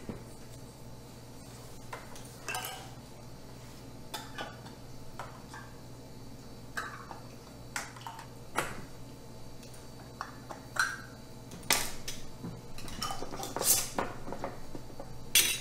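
Metal lids and screw bands clink and tick against glass canning jars of pickled green tomatoes, a run of small scattered metallic taps and scrapes, close and fairly quiet over a low steady hum, with no talking.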